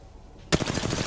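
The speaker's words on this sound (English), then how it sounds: "Listen up, I'm getting shot at." Automatic gunfire aimed at the player in Apex Legends: a sharp burst starts abruptly after near silence, then a rapid, evenly spaced string of loud shots follows close by.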